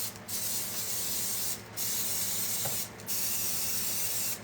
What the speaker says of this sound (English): I'm going to go ahead and just spray down